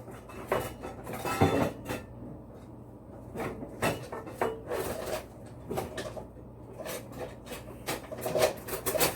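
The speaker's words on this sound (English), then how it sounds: "So we're going to scrape them up a little bit at a time." A scraper gathers chopped vegetables off a wooden cutting board in the kitchen, making close, repeated scraping and rasping strokes with light clacks against the board and bowls, no speech.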